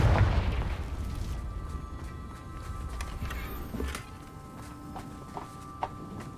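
Confringo spell explosion in the video game Hogwarts Legacy: a loud low boom bursts at the start and rumbles off over a few seconds, followed by quieter scattered pops and light footstep-like clicks.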